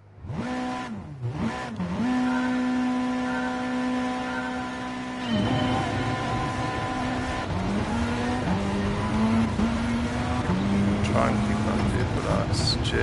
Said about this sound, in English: Let's hear this car.